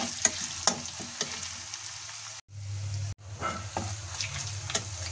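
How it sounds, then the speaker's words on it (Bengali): Cumin seeds and chopped ginger frying in hot oil in a wok, a steady close crackling sizzle with soft stirring scrapes, briefly cut off near the middle before resuming, with no talk. "সেই কড়াইয়ের মধ্যে তেল দিয়ে জিরে আর আদা ফোড়ন দিয়ে দিচ্ছি আমি"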